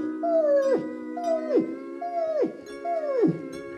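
A voice imitating a dog howling: four drawn-out, close howls in a steady rhythm, each ending in a sharp downward slide in pitch, with no talk between them.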